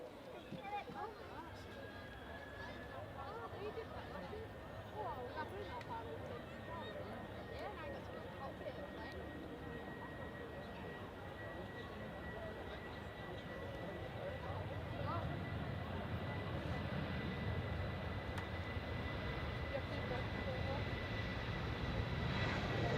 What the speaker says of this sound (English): So there goes the KLM Boeing 737-700 en route to Amsterdam.